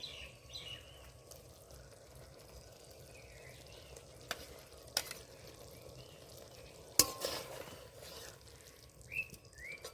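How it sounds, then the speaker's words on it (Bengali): Eggs go into a frying pan with fried eggplant and get stirred, a quiet, steady sizzle broken by a few sharp clicks of utensil on the pan. "এবার ডিমের ভুজিয়া আর ডিমগুলো দিয়ে দেবো"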